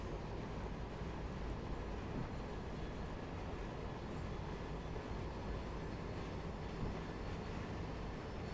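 A Class 700 Thameslink train in Train Simulator Classic runs at speed, giving a steady, broad rumbling roar with constant loudness and no talking.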